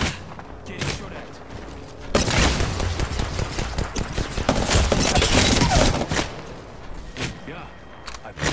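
Apex Legends gunfire, a dense sustained burst of rapid automatic shots after a few scattered ones, loud and close, with a voice talking over the shooting.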